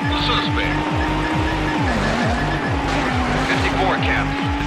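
A Mercedes CLK GTR races at full throttle in a police pursuit in Need For Speed: Hot Pursuit 2, its engine droning loudly and steadily while tires squeal in repeated bursts and a radio voice talks over it.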